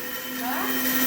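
A kitchen mixer grinder whirs with a steady motor whine that climbs slightly in pitch and loudness over about a second, close and continuous.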